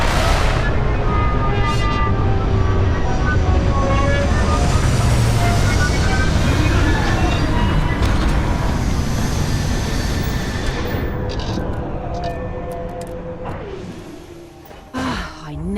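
Spaceship touching down in Starfield: a loud, sustained engine roar with sweeping whines that gradually fades and thins out toward the end, ending with a few soft thumps.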